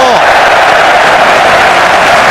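Cricket crowd at Durham applauding a boundary during an England versus New Zealand match, a dense, steady roar of clapping and cheering that fills the whole moment without pause.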